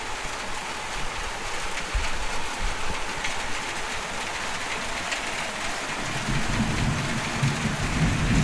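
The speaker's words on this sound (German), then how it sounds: "Da kommt ein ganz ordentliches Gewitter da angeschnippelt hier." Steady rain during a strong thunderstorm over Friedrichshafen, a dense continuous wash with a low rumbling swell of thunder building in the last few seconds, no voices.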